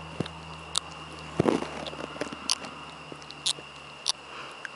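Small, soft crunchy clicks and munches come irregularly up close as a kitten chews Pounce treats, with quiet background hum and no speech.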